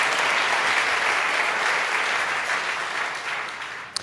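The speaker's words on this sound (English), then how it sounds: "It's worth clapping on that one" Sustained applause from an audience at a David Lynch Foundation launch event in New York, steady dense clapping throughout that tapers slightly near the end.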